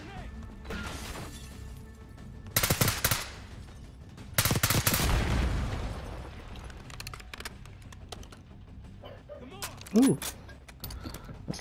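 Gunfire in Call of Duty: Black Ops 6, with several sharp bursts and a sustained volley of shots at varying distance, mixed with game noise and someone talking.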